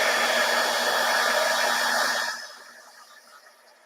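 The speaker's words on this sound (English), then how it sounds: "So let me get my heat gun. And we'll heat this up." A heat gun warming a craft card blows a loud, steady whir close by, then switches off after a couple of seconds and winds down into quiet.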